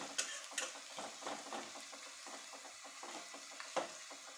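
Onions cooking in a pan, a quiet broadband sizzle with scattered soft clicks and stirring scrapes, steady and close with no voices.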